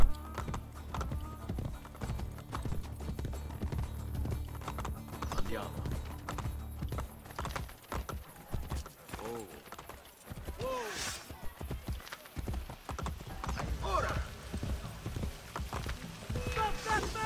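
Hooves clip-clop in a quick galloping rhythm in the game Assassin's Creed: Brotherhood, mixed with game sound effects, a horse whinny and occasional speech over the top.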